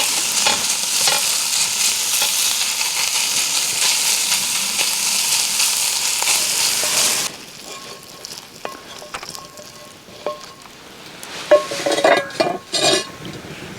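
A mixture is stirred in cast iron over a campfire: loud continuous sizzling and scraping for about seven seconds, then quieter with scattered metallic clinks and a short burst of scraping near the end.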